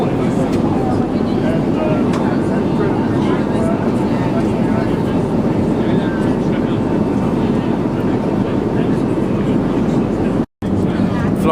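Cabin of an Airbus A350 XWB airliner climbing on a passenger flight, filled with a loud, constant broadband roar that holds steady throughout, with a brief dropout near the end.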